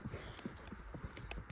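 A horse walking at an easy pace alongside hunting dogs, hooves clip-clopping in a quick irregular rhythm of close, distinct strikes, with no voices.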